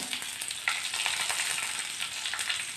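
Garlic and green chillies sizzle steadily in hot oil in a pan, a dense close crackle with small spits and pops and no talking.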